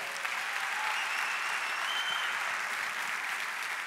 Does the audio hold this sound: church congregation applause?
yes